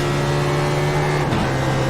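Race cars drive around a track, a loud, steady engine drone holding a constant pitch, with a brief shift in the roar near the end.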